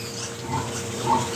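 A sow on a pig farm gives a short, close grunting sound over a steady barn background.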